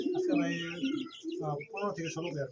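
Soft, low pigeon cooing rolls on steadily at a pigeon market, faint and blended with murmuring voices nearby.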